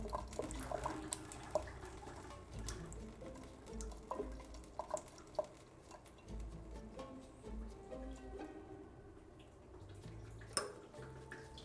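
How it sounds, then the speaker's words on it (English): Water drains from a QETTLE Mini boiling water tap in a kitchen, heard as quiet, irregular splashes, drips and trickles with occasional clinks, close and faint. "I'm just going to draw off any remaining water in the system."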